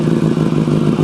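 Engine of a 2025 Yamaha R9 motorcycle, close and loud: a brief burst of rough, rapid-firing idle clatter with a steady throbbing pulse.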